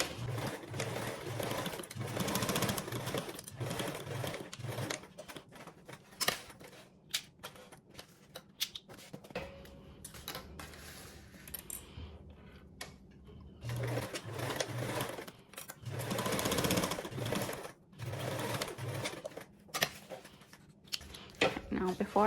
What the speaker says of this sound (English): We're going to go ahead and sew those on with a 1/4 seam allowance.